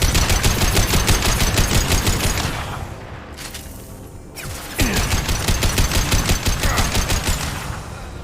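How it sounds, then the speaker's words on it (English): Rapid bursts of heavy gunfire in Mass Effect 2, loud and close, break off into a brief lull around the middle before the sustained firing resumes. "Firing a high-impact shot!"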